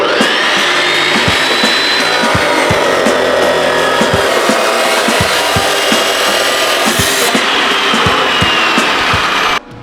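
A power saw cuts 3/16-inch steel pieces for DIY rock sliders on a junker Jeep Cherokee, giving a loud, continuous grinding whine with periodic knocks that stops abruptly at the end.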